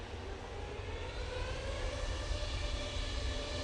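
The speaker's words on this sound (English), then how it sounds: "EasyJet A321 Neo off to Dalaman." An EasyJet A321neo airliner taking off at Manchester Airport: a loud, continuous broadband jet engine roar holds steady and close throughout, with no talking.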